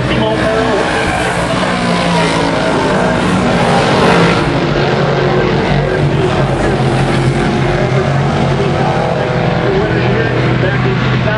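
358 modified race cars circle Mohawk International Raceway with a loud, unbroken roar of engines, while a track announcer talks over the din throughout.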